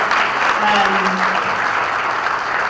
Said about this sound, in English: Everyone, please give Jake another round of applause.